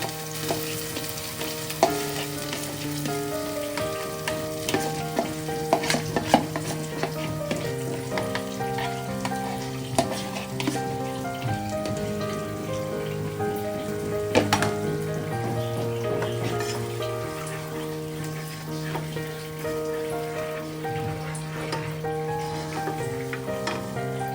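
A spiced yogurt mixture sizzling steadily in hot oil, with continuous close crackle and spatter and occasional stirring, while music plays underneath.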